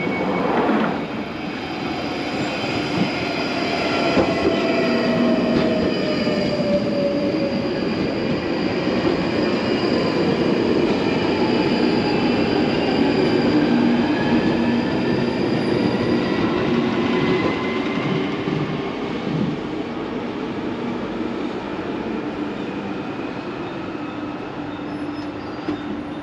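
A London Underground Northern Line train runs at Colindale station, a steady, loud rumble and whine of wheels and motors that holds for the whole stretch without a break.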